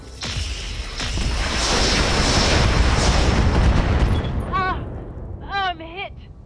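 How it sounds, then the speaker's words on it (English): A mech's ammunition explodes in the Roguetech video game with a deep, roaring blast that rumbles for several seconds before fading, after which a voice speaks. "We have an explosion."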